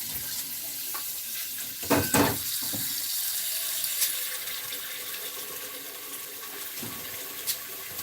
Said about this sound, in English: Get some water in that bowl.